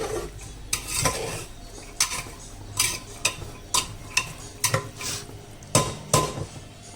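Toor beans and water stirred by hand inside a pressure cooker, giving a series of sharp metallic scrapes and clinks at an irregular pace, fairly close, with no talking.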